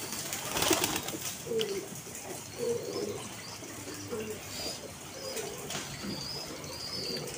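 Iraqi pigeons coo in a steady series of low, throaty calls close by, with faint chirps and rustling mixed in.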